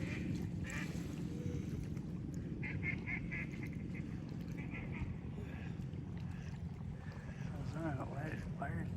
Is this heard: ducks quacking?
yes